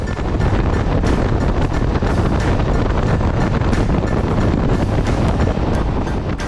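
A car drives through a tunnel on the approach to Bilbao, its loud, steady roar of rushing air and road noise filling the clip without a break and with no talking.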